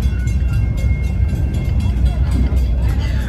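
The New Hope Railroad passenger train rumbles steadily in motion, a loud low rolling drone with clattering wheels heard from on board, while a voice talks over it.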